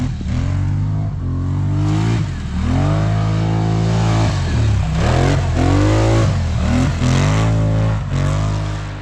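Polaris Scrambler side-by-side engine revving hard in four-wheel drive, a loud continuous roar that surges and dips in repeated throttle bursts throughout, with no talking.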